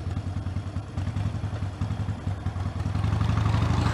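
A motorcycle engine runs while riding, a loud, close, continuous low throb with a fast, even pulsing rhythm and no pauses.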